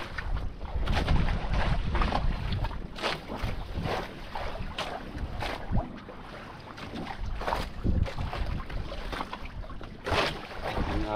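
Sea waves during a boat trip on rough water under a stormy sky, the hull slapping and splashing through swells with steady wind noise and engine rumble, loud and close.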